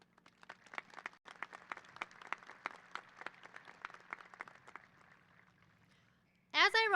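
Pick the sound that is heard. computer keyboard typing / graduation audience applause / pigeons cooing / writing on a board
graduation audience applause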